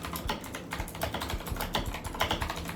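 Rapid, steady keystrokes on a compact RK61 60% mechanical keyboard, close and crisp, with clicky clacks running continuously and alone throughout.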